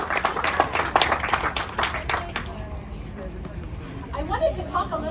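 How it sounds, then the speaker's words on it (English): Applause at a ribbon cutting for a new primary care clinic in Phoenix, Arizona: a small crowd claps in brisk, uneven bursts for a couple of seconds, then the clapping thins out while people talk nearby. "So a round of applause to everybody."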